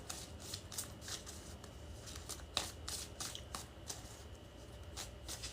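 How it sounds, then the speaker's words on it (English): Tarot cards being shuffled by hand, a run of quick papery riffles and soft slaps in a steady rhythm, close and quiet with faint background hiss, no talking. "3 more shuffles around, yep."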